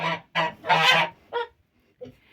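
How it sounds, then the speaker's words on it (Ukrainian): Several loud, close geese honking in quick bursts, a few harsh calls followed by a shorter one after a brief pause. "це ці гуси. Вони дуже кричать"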